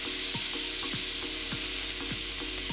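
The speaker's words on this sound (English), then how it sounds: "What we are going for here is sealing the meat on the outside" Meat searing in a hot pan for a stew, with a steady loud sizzle and a few brief clanks from stirring or turning pieces at regular intervals, no voices.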